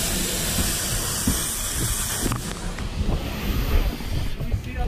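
Steam hissing from a freshly extinguished bedroom house fire, a continuous loud broadband hiss with rumbling and clatter beneath, heard close at the scene.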